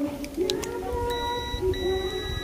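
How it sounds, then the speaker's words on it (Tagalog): A multimeter set to continuity mode sounds its buzzer during an LED TV repair, giving several sustained tonal beeps close to the microphone with faint background noise and no speech. "Naka-buzzer tayo. Buzzer mode."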